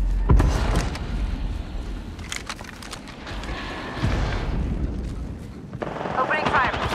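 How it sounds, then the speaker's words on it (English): Gunfire in the battle royale game Apex Legends rattles in rapid bursts and single cracks, some close and punchy, others more distant, with in-game voice lines sounding between the shots. "Opening fire. Getting shot at."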